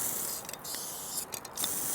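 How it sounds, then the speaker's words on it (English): A steady hiss of a garden hose on a wide spray setting watering plants, broad and close, with brief dips and interruptions as the stream shifts. "So I've got my hose set on kind of a wider spray here."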